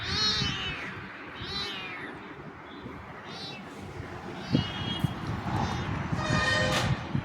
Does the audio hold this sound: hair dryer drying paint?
no